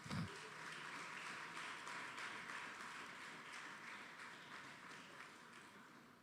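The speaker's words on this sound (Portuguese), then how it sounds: "eu quero que vocês aplaudam o nome do Senhor Jesus nessa noite" A church audience applauds during an evening family service, a steady, fairly faint and distant wash of clapping that carries on evenly from start to finish.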